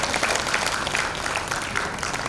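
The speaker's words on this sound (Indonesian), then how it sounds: "Yuk kita sekali lagi kasih tepuk tangan buat Tuhan semua." A church congregation claps together during a worship service, a dense, continuous patter of many hands filling the room at a steady level with no speech over it.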